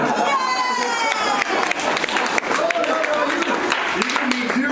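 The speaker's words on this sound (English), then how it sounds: "looks like somebody owes me a round of applause" Crowd of passengers cheering and clapping aboard a red-eye flight, a loud, dense burst of applause and shouts with voices mixed in throughout.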